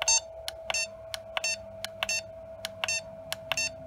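Hobbymate D6 Duo Pro AC/DC battery charger beeping at its middle volume setting: a series of short, sharp electronic beeps in an irregular rhythm, some single and some in quick pairs, close and clear over faint background hum.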